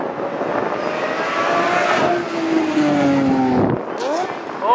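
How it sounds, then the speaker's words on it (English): A Tesla Model S Plaid accelerates hard, its loud electric motor whine sweeping steadily upward in pitch, with a rising second whine near the end and crowd noise underneath. "Here he goes. Tesla Model Plaid acceleration."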